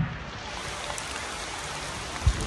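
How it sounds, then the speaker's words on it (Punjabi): Heavy rain falling outdoors, a dense steady hiss of drops on surfaces with a single soft thump near the end and no speech. "ਮੀਂਹ ਤਾਂ ਜੀ ਬਹੁਤ ਤੇਜ਼ ਹੋ ਗਿਆ"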